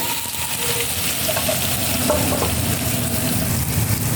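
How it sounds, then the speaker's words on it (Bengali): Mushrooms fry in hot oil in a wok with dried chilies and whole cumin, giving a loud, continuous sizzling hiss with a low bubbling rumble underneath, heard close and steady, without talk. "এবার এখানে মাশরুমগুলোকে ভেজে নেব"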